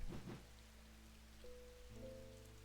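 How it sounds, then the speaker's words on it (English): Rain in the video game Strange Antiquities patters steadily at a moderate level. Soft sustained musical tones play underneath it, with no talk. "Nice rainy weather we're having today."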